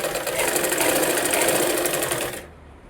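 A sewing machine stitches a blouse lining in one fast, steady run of rapid needle clatter, close and loud, then stops abruptly near the end.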